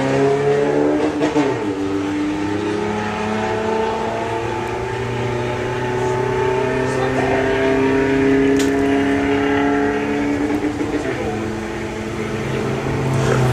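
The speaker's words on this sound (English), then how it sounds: "Havoc Misdemeanor Beetle up to the start line in the Kestrel beer lane." VW Beetle drag racers at Bug Jam launching down the strip, a loud sustained engine roar with rising and shifting revs throughout, an announcer's voice faintly underneath.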